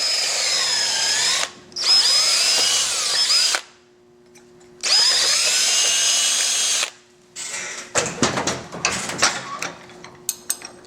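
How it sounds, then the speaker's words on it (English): A power drill whines in two bursts of several seconds each with pauses between, then grinding and clattering as the bit slots out a hole in a Victory Cross Country motorcycle bag latch. "You can just kind of use the drill bit and slot it out a little bit."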